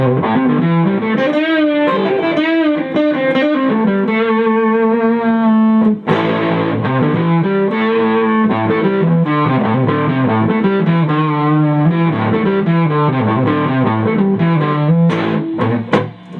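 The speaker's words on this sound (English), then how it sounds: "it's just a distortion effect built into the guitar instead of a pedal" A Kay Effector electric guitar plays through its built-in fuzz distortion, loud and buzzy with sustained saturated chords and riffs, alone without voices.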